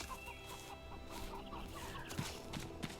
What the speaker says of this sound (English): And my chickens live over here.